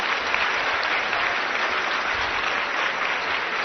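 Loud, steady applause from a crowd at a public event honoring the Lieutenant Governor in Delhi, continuous dense clapping filling the whole stretch without a break.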